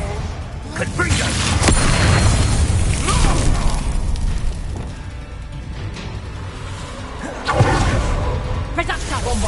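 The explosive Confringo spell in a Harry Potter video game lands as whooshing blasts and heavy booms, repeated and loud, amid shouted voices and combat noise.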